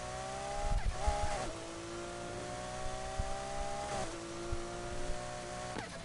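Lamborghini Murcielago engine in the racing game Need for Speed Heat, a droning rev that climbs through gears with abrupt shift drops, tire squeal and a close, steady engine tone throughout.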